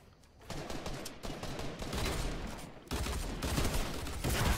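Shotgun blasts and rapid gunfire in a gun-game style shooter match, dense overlapping shots filling the moment with loud booming bursts.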